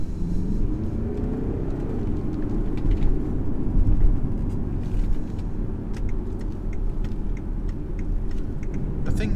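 A 2018 BMW X4 20d diesel SUV drives on the road, heard from inside as a steady low engine and road rumble with a faint whir and light ticking above it.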